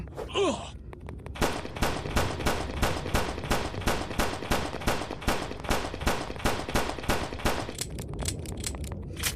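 Rapid gunfire from the mobile version of Resident Evil 4 rings out in a long, evenly spaced string of loud shots that runs for several seconds without a break. No voices are heard.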